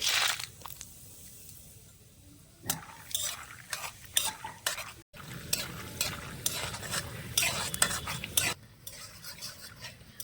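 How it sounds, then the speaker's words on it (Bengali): Peanuts fry in hot mustard oil in a pan, a light sizzle broken by repeated scraping and clattering strokes of a spoon stirring, close and fairly quiet, with no talking. "তেলটা গরম হয়ে গেছে এবার আমি এখানে কয়েকটা চিনে বাদাম নিয়েছি এবার বাদামগুলো ভেজে নেব"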